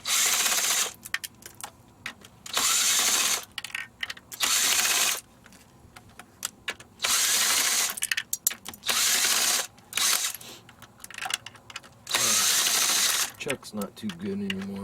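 Cordless power drill backing screws out of an outdoor telecom cabinet: repeated loud whirring bursts, each a second or so long, separated by pauses with clicks, rattles and workers talking in between.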